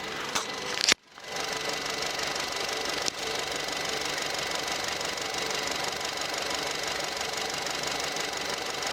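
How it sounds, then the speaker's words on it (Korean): A car engine idles steadily with a continuous mechanical drone and faint rhythmic knock, after a brief thump near the start; no voices. "엔진 소음도 한번 들어보시도록 하겠습니다"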